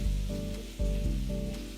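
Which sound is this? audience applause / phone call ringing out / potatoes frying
potatoes frying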